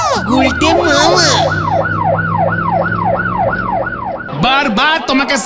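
A cartoon ambulance siren wails in a steady, loud, rising-and-falling cycle, close up, then breaks off into a short burst of noisy commotion.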